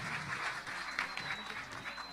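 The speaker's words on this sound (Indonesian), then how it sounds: "Pinter, tepuk tangan untuk Ardan, subhanallah." Audience applause for a child's speech at a religious gathering, a brief, fairly faint patter of clapping from the crowd that holds steady throughout.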